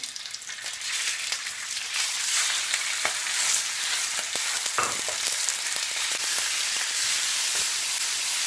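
Meat frying in olive oil in a hot sac pan for sac kavurma, a dense, steady sizzle with crackling spits and occasional stirring knocks, heard up close without voices.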